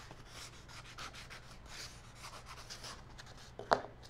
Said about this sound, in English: we'll use our burnishing tool